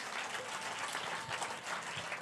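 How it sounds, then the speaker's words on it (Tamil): Applause for the helpers at a church assembly's Vacation Bible School day, a steady, moderately loud wash of clapping from an audience that runs throughout. "அவங்களுக்கெல்லாம் சேர்த்து மொத்தமாக ஒரு கைத்தட்டு விடுங்க பார்ப்போம்."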